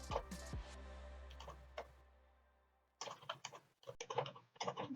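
Commands for configuring a Cisco router are typed on a computer keyboard: quiet, close key clicks, sparse at first, then coming in quicker irregular runs of keystrokes.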